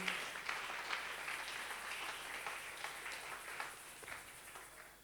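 A church congregation applauding during a prayer service, a dense, steady wash of clapping from many hands that fades slightly over the few seconds.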